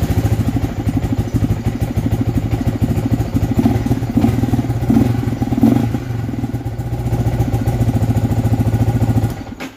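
A motorcycle fitted with a new cylinder head starts and settles into a loud, close, steady clattering idle, running alone.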